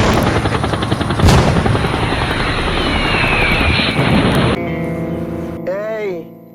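Battle sound effects in a homemade comedy skit: a loud roaring mix of explosions, gunfire and helicopter-like rumble, which cuts off abruptly into quieter tones and a rising whistle.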